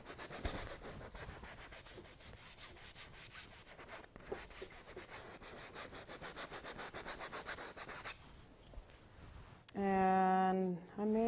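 A paintbrush scrubs blue paint onto a landscape painting of oaks, a steady dry rubbing and scratching of bristles on the surface in quick repeated strokes, close and fairly faint, ending before a short burst of other sound.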